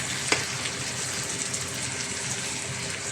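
Okra and bitter melon stirred and frying in a pan, a continuous even sizzle with a small clack of the utensil early on, close and steady throughout without speech.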